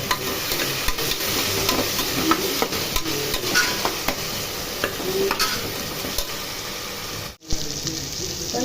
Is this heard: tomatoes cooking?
yes